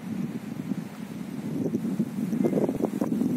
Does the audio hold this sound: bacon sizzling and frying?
no